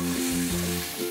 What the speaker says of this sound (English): And I'm going to saute this for a few minutes until the onions get translucent.